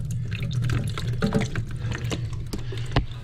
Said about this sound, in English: as soon as I break the seal here, we're gonna get a bunch of water coming out.